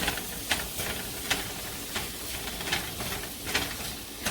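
Tomato sizzles in hot ghee in a tadka for Rajasthani daal baati, a constant loud frying hiss punctuated by regular sharp scrapes of stirring about once a second, with no talking.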